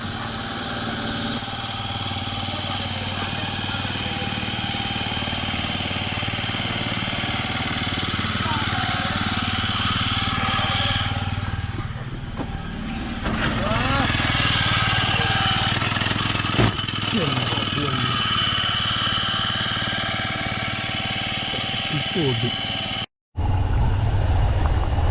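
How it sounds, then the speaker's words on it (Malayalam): Small motorised canoe speeding past on the Kadamakkudi backwaters in Kerala, its engine a close, steady drone that holds for over twenty seconds, swells midway, then cuts off abruptly near the end. "ആക്ച്വലി നല്ല റാപ്പിഡ് സ്പീഡിലായിരുന്നു ആ ബോട്ട് കടന്നു പോയത്."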